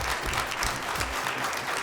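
Audience applause at an Armenian talent show, a dense steady clapping from a full crowd that holds throughout the short clip without pause.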